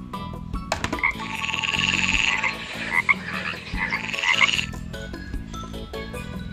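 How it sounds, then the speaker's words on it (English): A plastic toy frog croaks in a steady, fairly loud run of rasping calls lasting several seconds, with brief clicks and light music underneath and no talking. "Frog."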